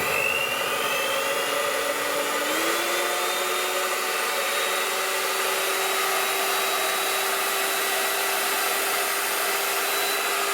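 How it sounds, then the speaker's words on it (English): A blender whirs through protein pancake batter, a loud continuous high motor whine with a pitch that rises and settles early on, then runs steadily and close throughout. "Then you can turn the blender on."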